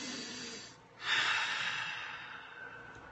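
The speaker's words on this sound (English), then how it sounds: "everyone take a big, deep breath" A single deep breath, a quiet inhale rising into a longer, louder, airy exhale that slowly fades, close and alone with no talk.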